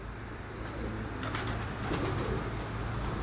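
Breeder pigeons cooing in a loft, soft throaty coos repeated under a dense, steady background of rustling and low hum, with a couple of brief bright knocks.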